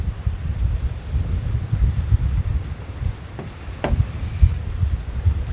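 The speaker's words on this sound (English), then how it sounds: "Oh, damn, it's windy." Strong wind buffets the microphone in a constant low rumble, with gusts rising and falling and a brief whistling squeak midway.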